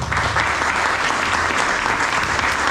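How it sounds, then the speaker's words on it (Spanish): Loud, sustained clapping from a church audience at a talk, a dense continuous round of applause with no voices. "para el cual pido un fuerte aplauso"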